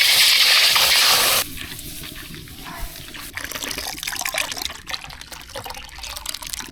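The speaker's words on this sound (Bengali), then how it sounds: "দুধটা ঢেলে দিলাম।" Milk poured into a cooking pot in a village kitchen, a steady liquid splash and trickle that starts loud and settles into a softer continuous pour, close and with no talk.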